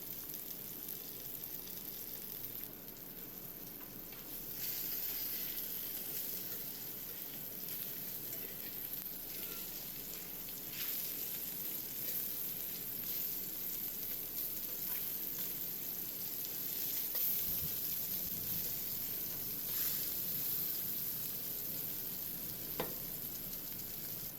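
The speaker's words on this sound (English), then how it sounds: "Sear them on both sides for about 2 minutes." Steady, crackling sizzle of salmon searing in a hot frying pan, continuous and fairly close, with no voices.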